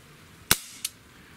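Smith & Wesson M29 .44 Magnum-style CO2 BB revolver firing a BB, one sharp close crack followed by a fainter second snap a third of a second later, in a quiet room.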